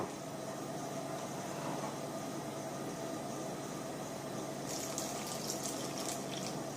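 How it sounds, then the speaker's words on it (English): A steady, quiet hiss of water being poured into protein pancake batter runs throughout, with a faint brighter splashy patch near the end. "So I'm going to add a little water, not much, just about 1/4 cup."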